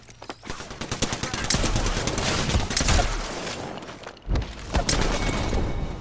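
Loud automatic gunfire from the Apex Legends video game comes in rapid stuttering bursts of closely spaced shots, with a brief pause before another volley.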